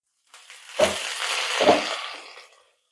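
Spinach greens dropped into a hot pan with oil, two bursts of loud hissing sizzle close by that settle into steady frying before fading.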